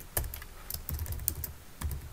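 Close computer keyboard typing while someone enters Visual Basic .NET code, with irregular bursts of key clicks and brief pauses, no talking.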